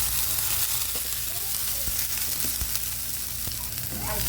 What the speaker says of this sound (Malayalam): ഇവിടെ അരിഞ്ഞ വെച്ചാൽ ഉള്ളിയും സബോളയും പിന്നെ പച്ചമുളക് വേപ്പില നമുക്ക് ഇട്ട് കൊടുക്കാം